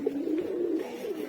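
Guest pigeons cooing at a loft, a low, soft rolling coo repeated in a steady run, close and faint, without voices.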